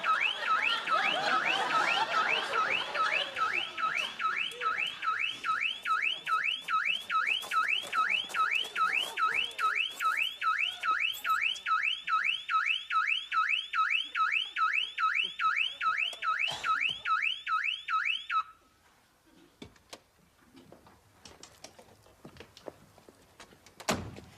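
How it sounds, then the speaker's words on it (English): A car burglar alarm whoops in a fast repeating siren cycle for about eighteen seconds, then stops, followed by scattered door thunks and small handling noises. "I had a burglar alarm fitted."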